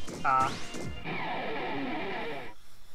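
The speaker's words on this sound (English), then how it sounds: "Just shatter all the property." A loud smash in Megaman X Command Mission as property is shattered, a sharp crash followed by a sustained glassy, crumbling debris wash lasting over a second before cutting off.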